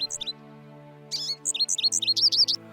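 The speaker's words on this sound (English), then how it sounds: "the European starling came to visit too" A European starling calls in a backyard with a run of close, clear chirps and whistles: one short call at the start, then after a pause a rapid series of warbling notes and squeaks over low steady background hum.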